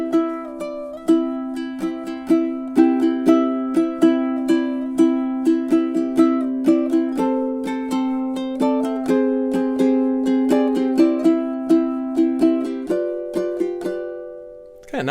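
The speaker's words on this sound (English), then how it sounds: "one of my favorite things to do on the ukulele is strum and play the melody at the same time" Ukulele chord melody, with rhythmic strummed chords carrying a picked melody line on top, played alone, close and clear in a steady relaxed pattern.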